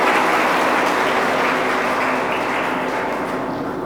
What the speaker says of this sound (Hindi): सो एक बार फिर से जोरदार तालियों के साथ स्वागत करते हैं आज के इस इवेंट की